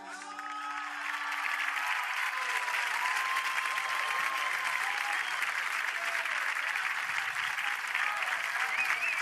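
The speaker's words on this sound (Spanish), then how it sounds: "aplauso para Miguel" A concert audience applauds after a Galician-language song, a broad, steady wash of clapping with some cheering that swells in and holds, a lingering tone audible at the start.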